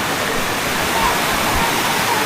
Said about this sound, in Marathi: बघू शकता समोर आपला पाण्याचा आवाज येतोय.